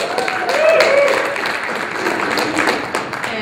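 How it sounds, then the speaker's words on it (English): An audience at a comic convention panel applauds, a dense wash of clapping that swells early and then holds steady, with a voice speaking over it. "Let's give him a round of applause."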